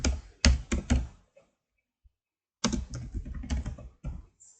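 Nearby keys clatter on a computer keyboard in two quick bursts of typing, separated by a silent pause of about a second and a half, with no talking.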